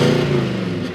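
A 2021 Nissan Titan pickup with 100,000 miles, its engine revving loudly and close in a short, steady mid-pitched roar that tapers slightly at the end.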